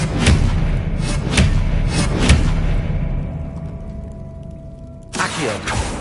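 A spell impact from the Hogwarts Legacy video game: heavy booming thuds and a whooshing blast up front, fading into a low rumble, then another sharp hit near the end.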